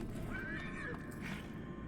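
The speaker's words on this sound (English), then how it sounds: "Oh, come on, you're a horse," A horse whinnies once in the video game Shadow of the Colossus, a rising, wavering neigh heard close and clear over a low background bed, with no talk over it.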